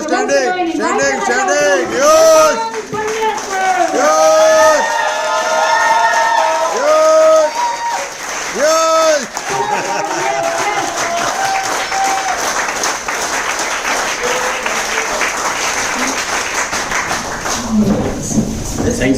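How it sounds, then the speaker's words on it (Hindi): An audience at a training seminar bursts into sustained applause and cheering, loud and continuous, with a crowd murmur underneath and a voice singing or speaking over the clapping in the first half. "बेशुमार तालियों के साथ"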